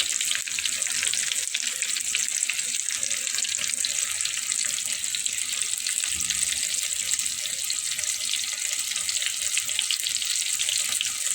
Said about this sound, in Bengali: সুন্দর এভাবে লাল লাল করে ভেজে নিতে হবে সবগুলোকে